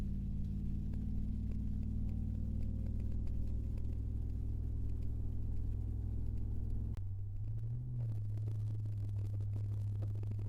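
A truck engine pulls steadily up a small hill, a continuous loud low rumble and drone throughout, with a brief dip and shift in pitch partway through as the load or throttle changes.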